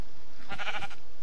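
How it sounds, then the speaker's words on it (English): A single sheep bleat from Minecraft, one wavering nasal call lasting about half a second, close and loud over a quiet game background. "sheep"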